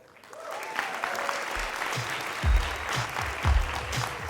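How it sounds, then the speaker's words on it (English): Guests at a wedding reception break into sustained applause, with a few louder swells and some low thumps mixed into the clapping. "please give another round of applause for the father and daughters"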